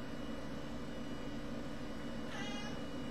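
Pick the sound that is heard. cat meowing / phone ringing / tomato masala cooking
cat meowing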